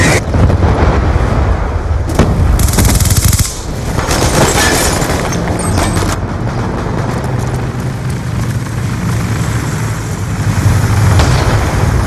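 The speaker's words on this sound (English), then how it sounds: "Hellstorm missile inbound" Black Ops 2 multiplayer on Raid in Kill Confirmed mode, where a Hellstorm missile strike lands with loud booming blasts and crackling, near-constant gunfire rolling through a dense, chaotic battle roar that never lets up.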